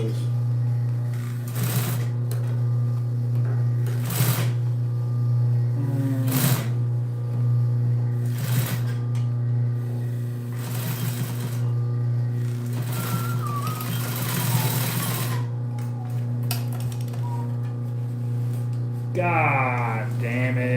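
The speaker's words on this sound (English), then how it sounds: "I meant clutch motor. This motor sucks." An industrial sewing machine driven by an old clutch motor hums steadily while stitching a boat cushion, its constant drone broken by repeated bursts of faster needle clatter, close and loud throughout with no clear talk.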